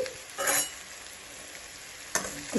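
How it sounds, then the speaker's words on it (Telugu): Potato pieces frying in oil in a pan as turmeric is stirred through, with a constant close sizzle and two brief louder scraping stirs, no voices. "వేసుకున్న తర్వాత కొంచెం పసుపు వేసేసి తిప్పుకుందాం"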